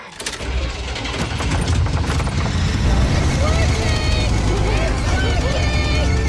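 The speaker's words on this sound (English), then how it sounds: "Surprisingly, the truck still runs." A truck engine cranks and catches after a jumpstart in a monster movie scene, then settles into a loud, steady idle with voices and other sounds over it.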